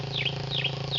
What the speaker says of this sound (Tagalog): Ibon na malaki.